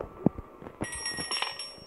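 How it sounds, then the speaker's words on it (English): A bell rings in the horror video game Granny. There is one sharp strike near the start, then a brighter, sustained metallic ringing, close and fairly loud, with no one talking. "Ring that bell as many times as I want, but she will not come"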